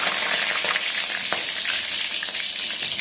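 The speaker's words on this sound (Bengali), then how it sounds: "এবারে আমি আলু কেটে দিয়েছি আলুটাকে একটু ভেজে নেব" Cut potatoes fry in hot oil for chicken biryani, a loud, steady, close sizzle with a few soft stirring clicks and no talking.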